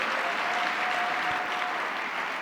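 Steady crowd applause at an awards gala, a continuous even wash of many hands clapping with no voices.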